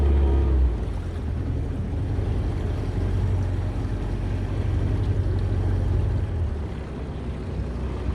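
A small aluminium tinny's outboard motor runs on the Murray River, a steady low drone with wind buffeting the microphone, fairly loud and constant throughout with no voices.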